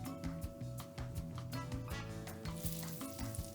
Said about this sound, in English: Here I'm just basting the other side with some of the butter that's in the pan. We'll brown both sides